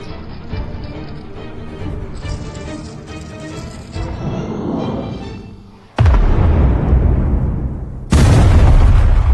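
Explosions from suicide skeletons in an anime, a loud sustained rumble of blasts followed by two sudden heavy booms, close and dominant over everything else.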